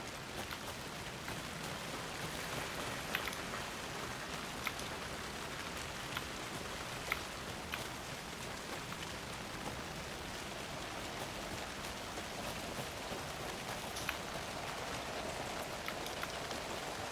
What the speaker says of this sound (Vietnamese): Mẹ lại còn mưa chứ.